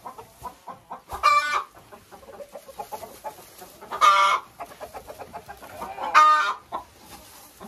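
Laying hens in a chicken coop give soft, continuous clucks, and three louder, drawn-out squawking calls break through at intervals.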